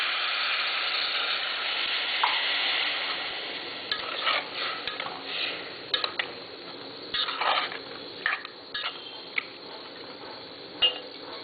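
Water goes into an egg, drumstick and tomato curry in a pan and gets stirred, with steady scraping and knocking of a spoon against the pot over a low sizzle; no voices.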